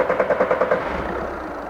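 A VW Caddy 1.6 TDI diesel with low fuel pressure is cranked over with a quick run of rhythmic starter pulses, then catches and settles into a low, even idle rumble.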